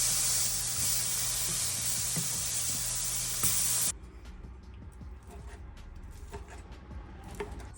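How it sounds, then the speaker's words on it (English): Sheep and goat milk cheese browning in olive oil in a pan gives a loud, steady hiss for about four seconds, then drops to a quieter crackling sizzle with scattered pops. "I'm gonna throw this in a pan with a little bit of olive oil and brown it up"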